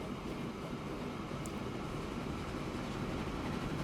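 A steady low rumble of trains running in Transport Fever 2, continuous and moderately loud with no talking over it.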